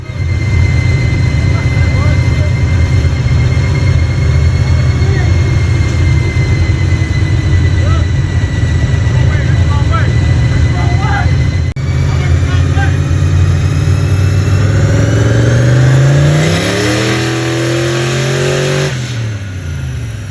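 A boosted 302-engine car roars on a dyno in a loud, sustained pull that climbs steadily in pitch toward the end before easing off, close and dominant, with people talking underneath.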